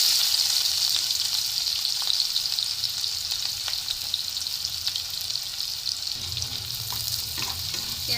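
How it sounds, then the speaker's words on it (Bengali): Chopped onion fries in oil left from frying mourala fish, with black cumin and a green chilli, giving a steady, dense sizzle with occasional stirring scrapes and pops, close and continuous. "পেঁয়াজটাকে আমি হালকা ভেজে নেব।"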